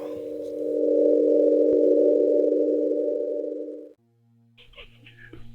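A telephone dial tone on a call at a military base: one steady, loud, continuous tone holds for about four seconds, then cuts off and leaves a low hum with faint clicks.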